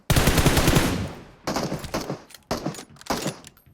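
Loud automatic gunfire from a video game: one long sustained burst, then three shorter bursts separated by brief pauses, with no talking.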